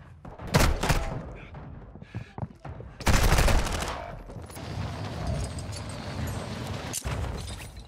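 Gunfire in Call of Duty Warzone 2.0 comes as close, loud bursts: a couple of sharp shots, then a heavy rapid volley, followed by softer distant crackle and thumps, with no talking.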